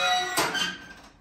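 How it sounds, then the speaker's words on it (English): A Sears garden tractor's snow plow being raised gives one sharp metallic squeak, close and loud, fading quickly into quiet. "So when the plow's up, which is gonna make a loud noise, it's squeaky."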